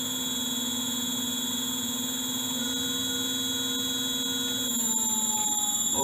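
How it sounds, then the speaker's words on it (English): A motor driven through a VACON NXP DC/DC converter runs steadily, giving a constant electrical hum with high whining tones throughout, alone and fairly loud. "now it's running very nicely as a motor."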